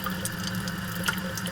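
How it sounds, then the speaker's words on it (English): A water tap runs in a darkroom sink during Victorian-style photo developing, a steady hissing, splashing flow heard close up with no talking. "I'm going to turn this water on"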